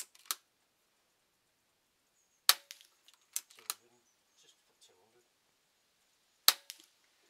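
Air rifle shots fired outdoors in fairly quick succession, a few sharp cracks spaced over several seconds with quiet gaps and small clicks between.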